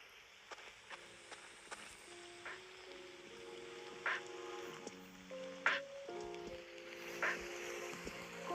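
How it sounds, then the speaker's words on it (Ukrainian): Steady rain patters over a soft ambient bed in a video game forest map, with sparse louder drips and occasional gentle tonal notes drifting in and out. "Або в переводі це як ліс, в якому йде дощ"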